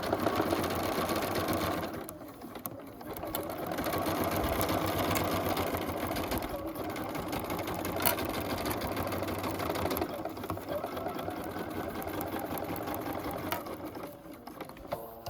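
A domestic sewing machine stitches a fabric bag panel in steady continuous runs, pausing briefly for pivots at the corners, close and alone with no talk.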